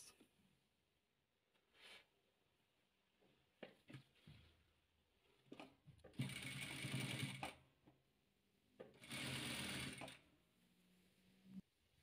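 A sewing machine stitches patchwork quilt pieces in bursts: a few short runs early, then two longer, loud whirring runs of rapid needle chatter with quiet pauses between.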